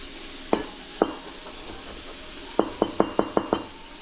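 Garlic fries in a pan on a loud stove, a steady hiss of sizzling under a run of sharp clinks as a utensil taps and stirs against the pan, two single knocks followed by a quick burst of six.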